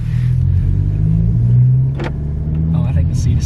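Tuned 11th-generation Honda Civic Si engine heard from the back seat as the car pulls forward, a steady low, loud droning rumble that swells slightly midway, with brief voices surfacing near the end.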